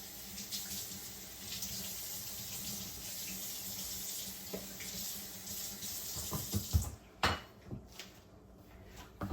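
Tap water runs steadily into a kitchen sink while an onion is rinsed, a continuous close splashing hiss that breaks into uneven gurgles and spatters near the end.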